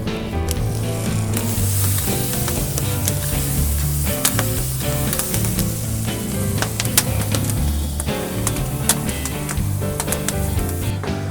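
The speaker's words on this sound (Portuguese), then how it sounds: "E agora a gente vai virar para assar o lado da gordura." Flank steak (vazio) searing fat side down on a parrilla grill, a steady dense sizzle with crackling pops running the whole time, with no talking.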